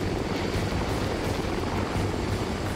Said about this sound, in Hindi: ये अमेरिका का CH-53 हेलीकॉप्टर है जिसमें से अमेरिकी मरीन समंदर के किनारे उतरते हैं।